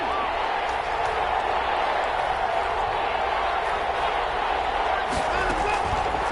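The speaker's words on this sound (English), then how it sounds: "the crowd getting into it as we come up on a big 3rd down" A stadium crowd in the American football video game Madden gives a steady, loud roar of cheering and noise ahead of a big third down, sustained throughout with a few sharper bursts near the end.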